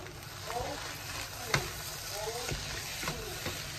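Vegetable fried rice sizzles steadily in a hot pan while being stirred and sautéed, with a few sharp scraping knocks of the utensil against the pan standing out over the constant frying hiss; a faint voice is briefly audible.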